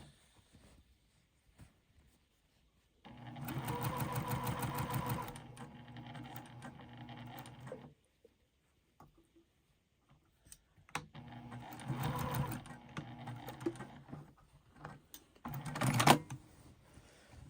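A sewing machine stitches a mitered quilt border in two separate bursts of steady, rapid whirring, one early and one later, with near-silent pauses between them and no talk.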